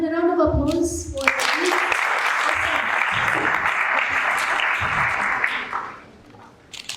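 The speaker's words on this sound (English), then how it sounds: "a round of applause for" An audience claps steadily at a youth entrepreneurship conference, a dense sustained wash of applause lasting several seconds before fading out, with a brief voice at the start.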